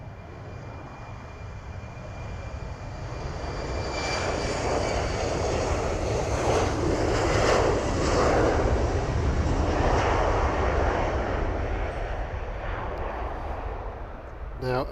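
A TAP Airlines airliner at an airport, its engines roaring loud and steady throughout, the sound swelling in the middle and holding a broad rumble.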